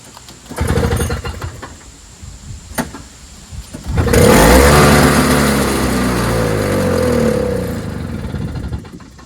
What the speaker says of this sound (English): Let's start it up real quick and see if it works.